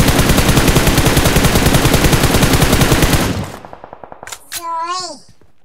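Gunfire in PUBG Mobile, a loud continuous automatic burst of rapid shots that stops abruptly, followed by a few scattered single shots and a short voice sound at the end.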